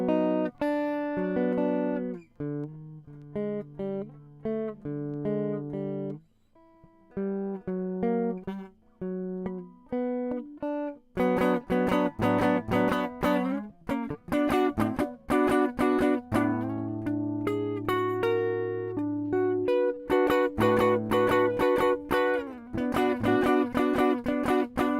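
Guitar picked on the middle strings, four, three and two, with clear plucked notes ringing in sparse phrases at first, then settling into a fuller, steady strummed pattern with repeated chords, played alone and fairly close.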